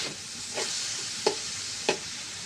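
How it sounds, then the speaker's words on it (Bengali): Coconut paste being stirred into greens cooking in a pan, with a steady frying sizzle and a few sharp spoon scrapes against the pan, alone without speech. "একটু নারকেল বাটা দিয়ে একটা নাড়া দিয়ে ঢেকে দেবো"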